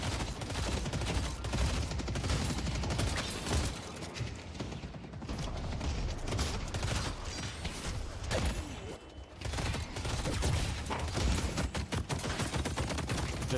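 Rapid shotgun fire in a Marvel video game, dense and continuous bursts of shots packed closely together at a steady loud level.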